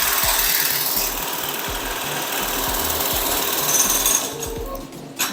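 Brother BAS 304/311A industrial programmable sewing machine stitching with the presser foot lowered, a steady rapid mechanical chatter running loud and continuous, then easing off near the end.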